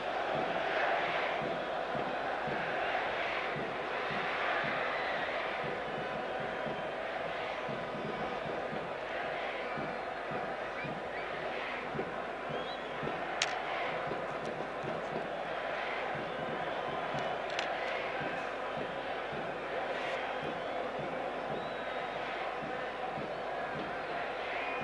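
A football stadium crowd at a Persepolis versus Al-Nassr match sends up a steady roar of cheering and chanting. Match commentary runs over the noise throughout.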